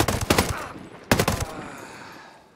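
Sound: VHSD2 rifle gunfire in Ghost Recon Breakpoint video game

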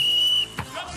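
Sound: referee whistle

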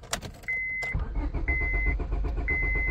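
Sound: Honda Civic starter cranking but engine not starting

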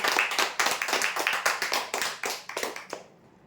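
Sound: audience clapping at a prize draw

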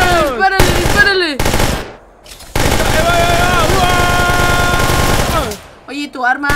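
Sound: gunfire from a weapon in the video game Minecraft

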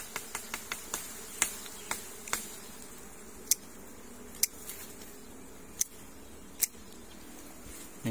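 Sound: bees buzzing around a nest

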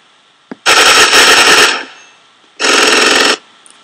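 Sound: gunshots in Minecraft Call of Duty Zombies map (video game)

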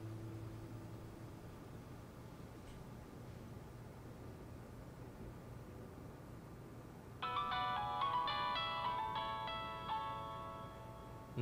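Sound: mobile phone ringtone ringing

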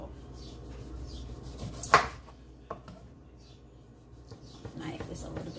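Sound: dull knife cutting lemon and orange

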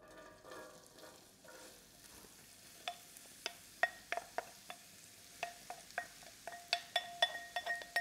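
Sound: onions frying and being stirred in oil in a pot

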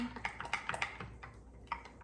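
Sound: stirring food in a bowl

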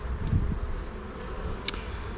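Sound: honeybees moving on a hive frame

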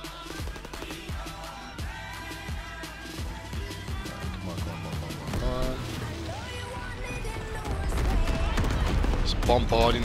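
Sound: artillery bombarding enemy spawn in Call of Duty WWII video game

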